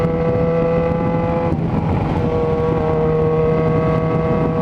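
Yamaha XJ6 motorcycle fitted with a Power GP2 4x1 exhaust, idling steady and loud with a held engine tone that shifts slightly midway, no talk.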